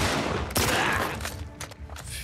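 A rapid burst of gunshots from the video game The Last of Us Part II, several sharp cracks in quick succession, loud and close, with no talking.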